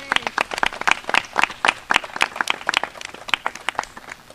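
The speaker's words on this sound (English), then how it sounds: "Let's give them a round of applause." A small gathering at a state announcement of a road reopening gives a brief round of applause, a sparse patter of individual claps close by, uneven and moderately loud, fading out after a few seconds.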